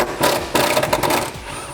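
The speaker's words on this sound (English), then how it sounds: "I'm using a 10mm deep socket to do this." A ratchet on a 10mm deep socket works a bolt loose on a Jeep Wrangler, giving rapid, close clicking bursts in two quick runs over the second before it trails off, with no voice.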